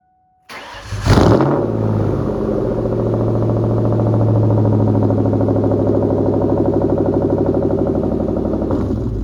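A 2003 Ford Mustang Mach 1 V8, just fitted with a repaired starter, cranks briefly, fires up with a loud catch and rev, then settles into a strong, steady idle close by.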